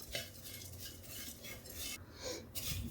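Thin beaten rice (aval) is stirred and roasted in a pan over low heat for a banana payasam, with a spoon steadily scraping and clinking against the metal in a continuous rhythm. A faint sizzle sits underneath.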